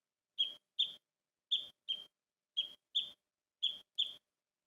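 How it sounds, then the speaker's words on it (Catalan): A house sparrow call, sounded as four evenly spaced pairs of short, sharp chirps with quiet gaps between them, clear and alone. "Aquest és el pardal. És petitonet, marronet, molt xicarró, i fa aquesta veu."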